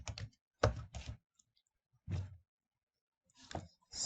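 Computer keyboard typing a short terminal command: several quick bursts of key clicks with pauses between them, close and fairly quiet, with no talking.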